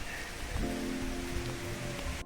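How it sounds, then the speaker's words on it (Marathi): Rain falling outdoors in a Konkan garden, a steady even hiss of drops with a faint low hum running through the middle, no talking. "पाऊस चालू झाला"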